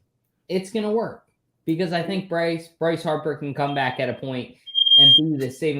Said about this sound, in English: Sorry, that was a fire alarm.